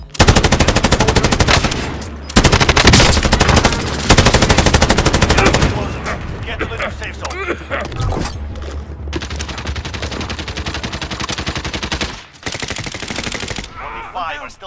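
Heavy automatic gunfire in Call of Duty: Modern Warfare, long loud bursts with short breaks and a stretch of scattered, more distant shots in the middle.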